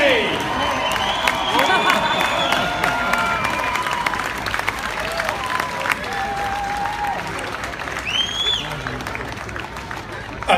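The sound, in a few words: crowd cheering at rally finish ramp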